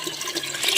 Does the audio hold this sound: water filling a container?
yes